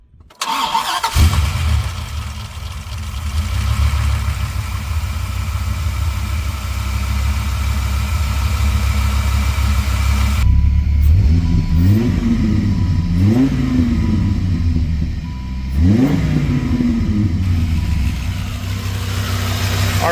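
Dodge Viper V10 fires up with a sharp crank, then settles into a loud, steady idle punctuated by several quick revs that rise and fall in the latter half, heard close with no talking.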